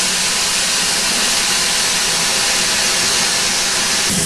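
Battle of Britain class steam locomotive 92 Squadron standing close by, releasing a loud, unbroken hiss of steam that stays even throughout.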